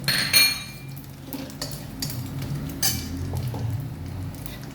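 Big chunks of pointed gourd drop into a cooking pan, a clatter and scrape of pieces and utensil against metal under a soft sizzle, busiest at the start and settling into low stirring.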